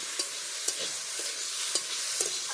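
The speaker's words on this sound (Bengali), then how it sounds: "আর এতে আছে ফুলকপির ডাঁটা আর ওলকপি একসঙ্গে ভাজা করছি" A soft, steady sizzle of cauliflower stalks and kohlrabi frying together in a pan, broken by light scraping taps as they are stirred.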